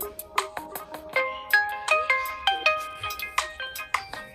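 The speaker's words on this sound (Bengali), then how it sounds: "সাউন্ডটা দেখুন এই ফোন থেকে আসতেছে" A mobile phone's alert tone rings out to help find a lost handset, a bright repeating electronic melody of short chiming notes in a steady rhythm, fairly loud and close with no voices over it.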